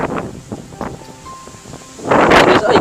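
Strong seaside wind buffets the microphone in gusts, with a loud roaring surge near the end and faint rustling between blasts; no talk.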